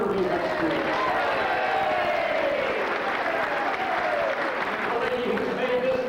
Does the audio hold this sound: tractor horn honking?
no